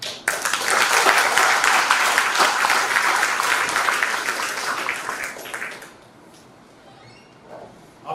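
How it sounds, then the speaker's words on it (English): Dense applause from an audience at a university talk on national security rolls on loudly for nearly six seconds, then cuts off abruptly into a quiet room with faint rustling. "I think that deserves a clap."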